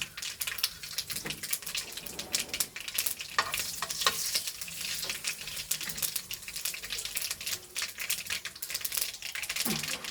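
Green chillies and mustard seeds crackle and spit in hot oil, a busy close sizzle full of sharp popping ticks and scraping stirs that comes and goes in uneven bursts.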